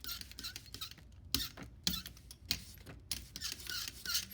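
An ink roller rolls back and forth across a printing plate while inking a foam printing plate, giving a continuous sticky, faintly squeaky rolling texture in quick repeated strokes, quiet and close.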